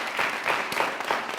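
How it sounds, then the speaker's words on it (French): Studio audience applause on a Burkina Faso television entertainment show, a short burst of dense clapping at moderate level, fairly even with slight swells. "Merci de faire beaucoup d'applaudissements."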